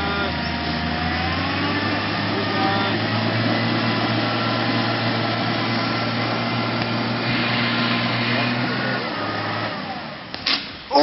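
Vehicle bogged at the 2011 Mt Gambier Radio Foxhunting Convention, engine revving hard as its wheels spin in place, a loud sustained roar that drops off near the end.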